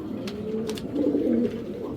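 A pair of racing Giribaz pigeons cooing close by, a couple of soft low throaty coos over a short moment, with light ambient noise and no talk.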